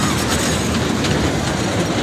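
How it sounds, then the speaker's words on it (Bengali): A children's ride train runs at a trade fair, a continuous close rumble with faint clattering wheels and no pause throughout. "আর এদিকে ট্রেন চলতেছে।"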